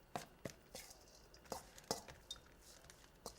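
A knife chops through cooked meat and rice on a cutting board, about ten sharp, irregular knocks with faint clinks between them, quiet and close, with no talk.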